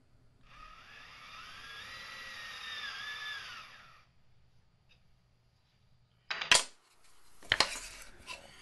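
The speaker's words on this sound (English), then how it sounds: "Next step, just drill the holes in." A drill bores holes through a wooden mortise-and-tenon joint for drawboring: a steady whirring run of about three seconds, followed after a pause by two short, sharp bursts of drilling or handling noise.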